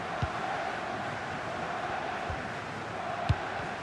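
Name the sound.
stadium crowd noise in football video game career mode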